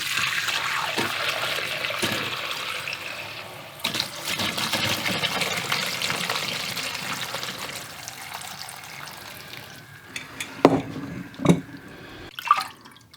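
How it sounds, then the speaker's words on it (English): Cherry brandy and its soaked fruit strained through a fine sieve into a bowl, with a steady close pour and trickle of liquid that thins into scattered drips and a few soft knocks near the end. "The easiest way to strain off the fruit is through a fine sieve into a bowl."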